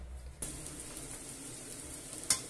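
Chopped onion fries in a pan with a soft, continuous sizzle, close and fairly quiet, broken by a couple of brief clinks, with no voices.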